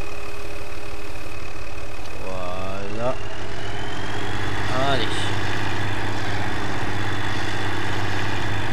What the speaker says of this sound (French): Le tracteur qui consomme comme je sais pas quoi.